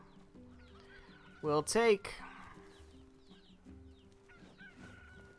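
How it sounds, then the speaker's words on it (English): A video game chicken sound effect from NieR Replicant, a short, sharp burst of squawking clucks in the middle, with quiet game music underneath and someone talking briefly. "Every time I hear that chicken sound effect, it just makes me think of collecting the chickens in Kakariko Village"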